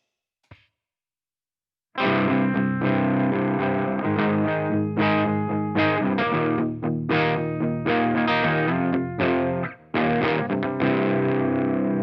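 After a brief click and silence, a distorted electric guitar blares through amp speakers, loud chords ringing continuously with a short drop near the end.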